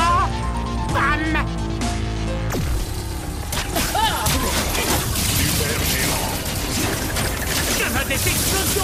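Loud crashes, whooshes and booming hits from Skylanders Imaginators, following a sustained musical tone that cuts off, with a voice speaking over the chaotic effects.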